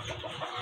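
Ready-to-lay hens cluck softly in a brief, faint, low-level murmur, several birds close together with no voices.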